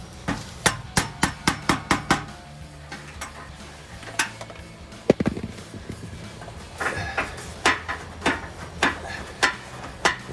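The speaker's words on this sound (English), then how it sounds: "take a hammer and knock your screwdriver in there to just kind of loosen that up a little bit so the pipes will come apart" A hammer knocking a screwdriver to loosen the exhaust pipes on a 2019-2023 Ford Ranger, delivering a close series of sharp metallic blows, first in a quick run, then after a pause in a slower, uneven sequence.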